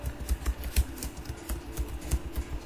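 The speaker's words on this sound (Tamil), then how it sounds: "போட்டுட்டு நான் டைப் பண்ணுறேன்" Computer keyboard typing during an MS Word tutorial: a run of quiet, irregular key clicks at a moderate pace, close and soft, with no voices.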